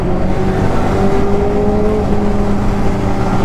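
An inline four-cylinder motorcycle engine humming loud and steady close by, with a faint rising note partway through, alone without talk.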